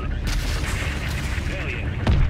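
Heavy gunner fire in the Call of Duty: Modern Warfare III video game, a dense booming barrage with a sharp loud blast near the end, set against battle noise.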